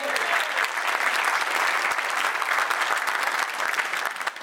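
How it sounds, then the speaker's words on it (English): Dense, sustained applause from a concert audience for pipers of a military band, a steady wash of many hands clapping for several seconds before easing slightly at the end. "Weren't they fantastic, ladies and gentlemen? Another round of applause"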